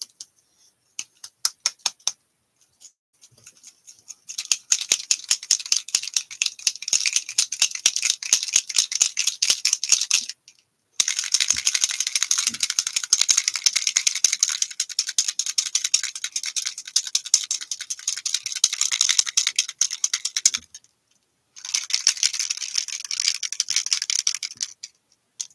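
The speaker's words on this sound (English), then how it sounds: "This is so entertaining hearing me shake mica spray bottles" Mica spray bottles being shaken by hand at a craft table, a rapid rattling that runs in long bursts with brief pauses between them, close and fairly loud, with no talking.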